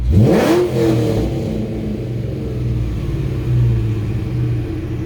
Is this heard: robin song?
no